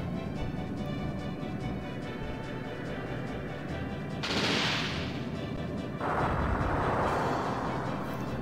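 Ship cannons firing in the video game Skies of Arcadia Legends: a dense, continuous roar of booming blasts, with two sharp bright bursts of impact or explosion standing out over the rumbling barrage.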